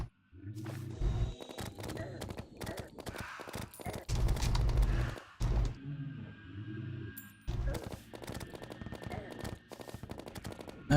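Gunfire cuts down mummies in Terraria, rapid repeated shots in dense runs, broken by short pauses and a quieter stretch midway.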